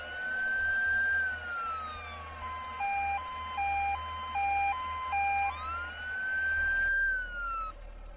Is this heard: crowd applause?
no